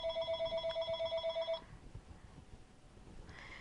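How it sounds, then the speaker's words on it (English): A house telephone rings in a rapid pulsing trill of about ten beats, then stops, and a fainter ring starts at the end. The sound is indoors and at moderate distance, with no talking. "Yes, I'm gonna ignore the phone."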